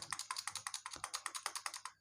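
Rapid, steady typing on a keyboard, a fast even run of crisp key clicks close by, with no voices over it.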